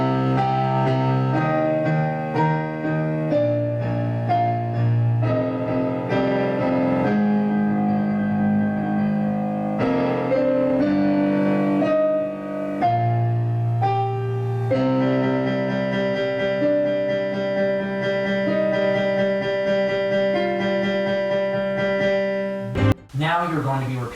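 Solo piano playing the Shin Gojira theme, full two-handed passage of deep bass notes under sustained chords, steady and resonant, close and loud, ending in a sharp noise burst.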